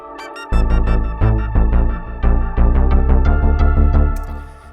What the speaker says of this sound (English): We're enjoying a new synthesizer that you might not know about.